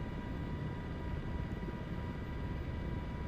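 An MH-60 helicopter in Microsoft Flight Simulator drones steadily at low volume, a continuous rotor and engine rumble with no voices or sharp changes across the few seconds.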